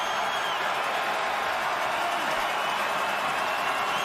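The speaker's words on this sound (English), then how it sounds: "Capacity crowd here at Tim Hortons Field. Fans on both sides and making lots of noise now" Capacity stadium crowd at a CFL Grey Cup football game between the Blue Bombers and Alouettes at Tim Hortons Field, a dense steady roar of distant cheering with broadcast commentary underneath.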